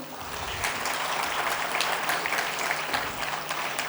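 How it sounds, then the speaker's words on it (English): Steady applause from an audience at a college project competition, many hands clapping together at moderate loudness, continuous from start to finish. "I request you to give a huge applause for yourself"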